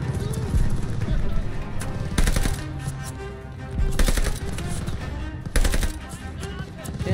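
Bursts of automatic gunfire in the Call of Duty Vanguard campaign, several loud volleys against ongoing battle noise, with voices talking throughout.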